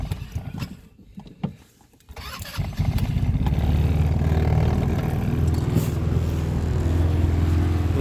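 A Trailmaster Challenger 150X Deluxe off-road vehicle, right after a gear oil change, clatters and cranks a few times before catching and settling into a loud, steady idle close by.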